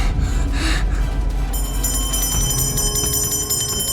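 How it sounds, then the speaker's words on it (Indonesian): A bell is suddenly struck after a breathy gasp-like sound, then its bright metallic tone rings on and lingers in a steady shimmer to the end. "tiba-tiba bunyiin lonceng"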